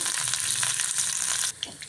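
Steady, close sizzling of curry leaves and coriander frying in hot oil, a dense crackling hiss that drops off abruptly near the end, leaving a few faint pops.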